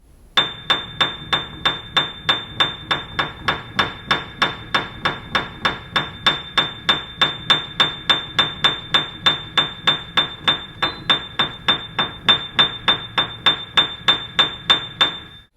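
High A, note 85 on a piano, struck over and over in a steady rapid rhythm, each hammer strike ringing briefly with a bright, pinging tone and fast decay, close and fairly loud.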